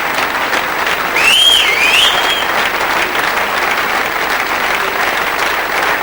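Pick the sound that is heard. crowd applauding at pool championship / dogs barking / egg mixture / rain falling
crowd applauding at pool championship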